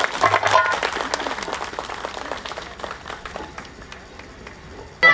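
An audience at a Hindi political speech event applauds, a dense steady wash of clapping that slowly fades and thins, with a louder burst returning at the very end.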